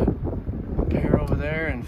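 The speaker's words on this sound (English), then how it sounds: "It's a bit of a windy day out there." Wind blowing across an open ranch on a windy July day, a steady rumbling buffet of gusts against the microphone that stays loud throughout, with a person talking over it.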